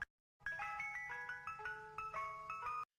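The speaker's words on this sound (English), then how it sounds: "Ice cream truck music usually sounds like this." An ice cream truck jingle plays as a bright, tinkling music-box melody of quick chiming notes, starting after a brief click and running steadily for a couple of seconds before cutting off.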